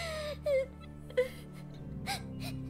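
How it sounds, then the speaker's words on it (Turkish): A character in The Walking Dead video game cries with wailing, moaning sobs and a gasp, a few separate outbursts over a steady low game soundtrack. "ağlama yar, ağlama Clementuk"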